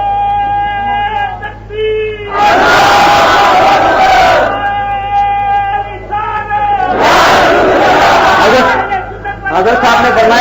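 Crowd at a religious gathering in Gujranwala, Pakistan, chanting slogans in two loud, massed bursts, with a single amplified voice speaking in the pauses between them.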